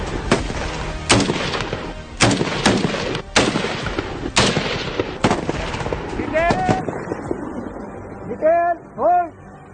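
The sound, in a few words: weapon being fired during military drill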